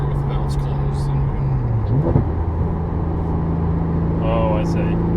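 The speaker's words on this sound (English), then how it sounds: "And here we'll downshift in the car with the valves closed." Porsche GT3 downshifting with its exhaust valves closed: a steady, muffled engine drone with a quick rev dip and blip near the middle, with the note settling and holding afterward.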